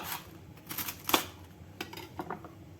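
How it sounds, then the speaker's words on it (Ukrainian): Knife finely shredding fresh cabbage on a board for borscht, a few quick close crisp cuts and taps in an irregular rhythm, with no talking. "Потрібно дрібно пошинкувати її"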